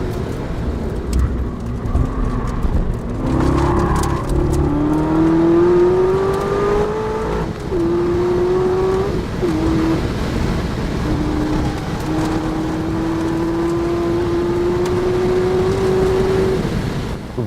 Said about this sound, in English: We're bringing the ZR1 to the Nürburgring